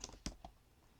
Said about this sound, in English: So if I type in, let's say, Fred Jones